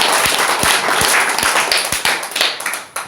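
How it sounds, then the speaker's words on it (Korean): A lecture audience clapping in unison, sharp distinct claps in an even rhythm with a roomy ambience behind them, fairly close and loud. "박수를 한번 치면서"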